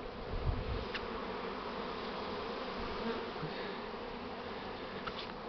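Dense, steady buzzing of a honey bee swarm close by, a continuous drone of many wings lasting throughout with no voices.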